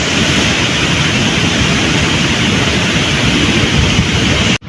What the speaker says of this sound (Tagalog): sobrang lakas na po ng hangin